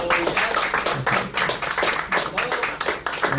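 A live show audience gives a sustained round of applause and clapping, dense and steady throughout, with voices mixed into the crowd noise.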